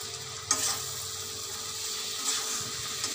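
Pointed gourd and potato go into hot spiced oil on a gas stove, giving a faint, steady frying hiss with a few light stirring clicks over about three seconds.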